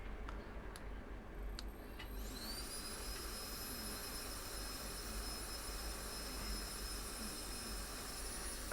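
A small portable fan hums with a steady broadband whoosh after a few faint clicks as it switches on, running continuously at low speed.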